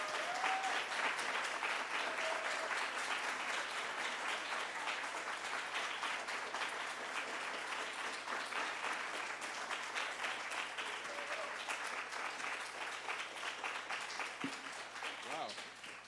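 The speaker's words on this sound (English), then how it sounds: "Big round of applause for Ez." A large audience applauds the poet Ez after a poetry reading, producing a dense, sustained wash of clapping that holds steady and fairly loud for about sixteen seconds before easing slightly at the end.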